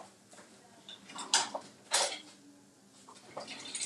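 A serrated knife cuts into a crispy cheese quesadilla, giving a few quiet crunchy scraping strokes with two sharper crackles, close and faint.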